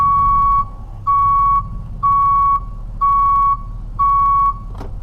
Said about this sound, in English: This first switch is for the backup alarm.